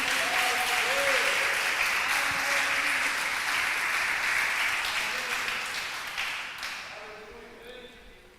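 A church congregation claps in praise of God, a broad, steady roll of applause that stays full for several seconds and then tapers off. Faint voices and brief tonal sounds rise through it.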